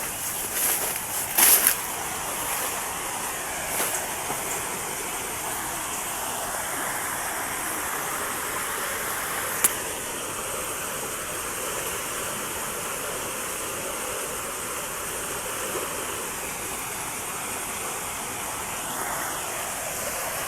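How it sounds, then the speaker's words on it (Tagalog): Creek water flowing steadily, a continuous broadband rush heard alone with a few faint knocks near the start. "So, ito na kami sa may sapa mga idol."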